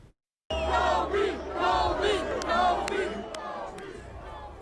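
Thousands of basketball fans gathered at the LA Lakers' home arena to honor Kobe Bryant, a large crowd roaring and chanting in rolling waves, loud and sustained, with a few sharp whistles cutting through.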